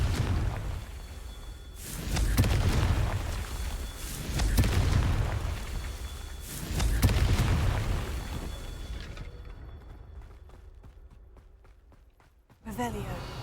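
A Confringo fire spell bursts in Hogwarts Legacy, setting off a string of loud booming blasts with rumbling tails. A quieter stretch follows, then a sharp final burst.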